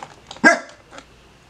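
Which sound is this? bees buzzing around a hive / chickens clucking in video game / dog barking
dog barking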